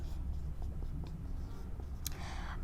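Pen or pencil scratching on paper while writing square root signs over numbers for a 9th class maths exercise, faint short strokes close by with a brief louder scrape near the end.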